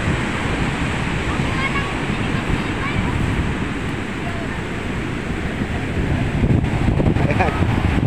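Big sea waves surging onto a beach, a loud, continuous roaring wash of surf with wind buffeting the microphone, swelling slightly toward the end.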